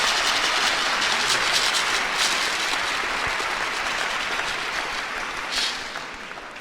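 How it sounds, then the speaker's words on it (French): A church congregation claps together in a steady, dense wash of applause that fills the room, fairly loud and continuous, fading slightly toward the end. "Let's clap for the Lord."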